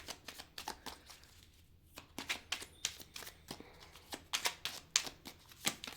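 Tarot cards are shuffled close by, making a quick run of crisp riffling flicks with a brief pause near the start, then steady papery snaps.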